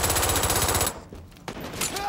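Rapid automatic gunfire rattles loudly in the online shooter Brink for about a second, then cuts off, leaving quieter scattered game noise and a few faint shots.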